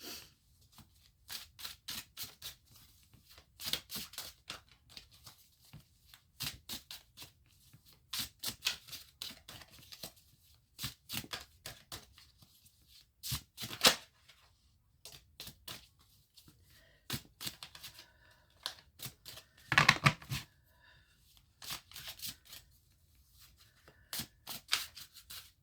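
Tarot cards being shuffled by hand in a quiet room, giving repeated dry riffling and sliding bursts with short pauses between, steady and close throughout, with no talk.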